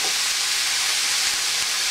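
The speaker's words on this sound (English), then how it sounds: "And I'm just going to saute this" Carrots and garlic sautéing in a pan over high heat give off a steady, close hiss of frying that holds for the whole stretch without pause, with no voices over it.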